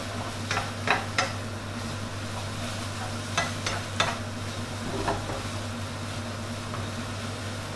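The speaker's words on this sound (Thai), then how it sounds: "แล้วก็คลุกให้เข้ากับเส้นของเราครับ" Pad thai noodles with shrimp are tossed and scraped in a hot pan, with several short clattering strokes over a steady sizzle and a constant low hum from the stove.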